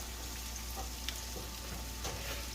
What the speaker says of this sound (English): we're going to go ahead and put our veggies in here with the garlic butter